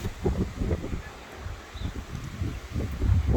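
Gusty wind buffets outdoors in low, rumbling bursts that rise and fall, with faint rustling in the background.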